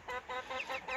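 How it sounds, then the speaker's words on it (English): Backyard hens cluck in a quick series of five short, nasal calls at moderate distance, with no talk over them. "You can hear my hens in the background."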